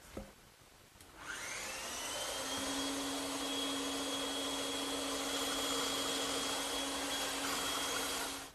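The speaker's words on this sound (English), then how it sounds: "I'll cut it out on the bandsaw." A woodworking bandsaw starts up and runs in a steady, loud whirring drone while cutting a curved wooden chair side piece. It runs on without a break and stops at the end, with no talking.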